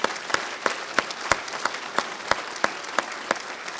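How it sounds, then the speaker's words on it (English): An audience at the UNH School of Law 2015 commencement applauds the dean: a steady, moderately loud wash of clapping with a few sharper individual claps standing out at a regular pulse, and no speech over it. "I'd like to give him a round of applause as well"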